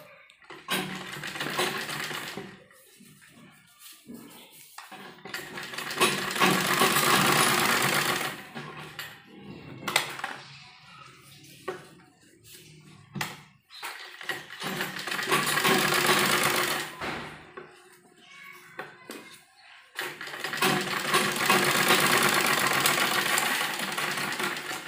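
Sewing machine stitching a frilled baby kurti top, whirring loudly and close in long steady runs of several seconds each, separated by short pauses with fabric handling and small clicks.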